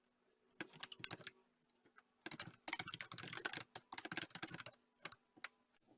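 Rapid bursts of typing on a computer keyboard, close and clear, with clustered keystrokes separated by short pauses and a faint steady hum beneath.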